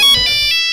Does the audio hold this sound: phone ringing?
yes